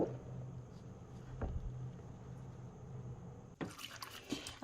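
Water runs steadily while madder-dyed wool is rinsed by hand, a continuous close splashing wash that turns into louder sloshing and dripping toward the end.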